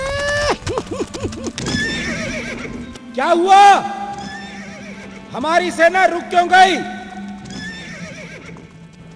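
Horses whinny and neigh repeatedly while hooves clip-clop, with people talking over the animals in a scene of a halted royal army on a stony road.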